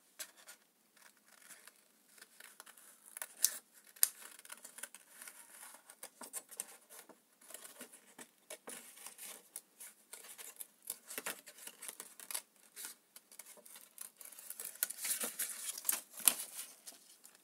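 Scissors snip paper while a mermaid-themed junk journal is crafted, a series of faint, close, irregular cuts and rustles with no voices.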